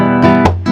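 Nylon-string guitar in a rumba strum with the strings slapped by the palm, a couple of short muted percussive hits among ringing chords, close and alone.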